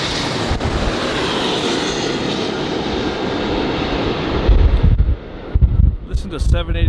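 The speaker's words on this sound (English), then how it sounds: "Listen to 789 Alpha November coming in from London Heathrow with his loud ass engines" A 23-year-old Boeing 777-200 arriving at LAX from London Heathrow, its loud jet engines producing a steady broadband roar with wind buffeting that swells and shifts near the end.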